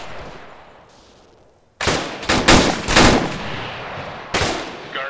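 Gunfire erupts in ArmA III after a quiet stretch: a loud burst of several rapid, overlapping cracks, a pause, then one more sharp shot close by.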